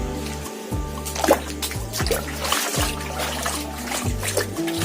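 Dishes washed by hand indoors, running water trickling and splashing near the mic with light clatter, over a low steady hum.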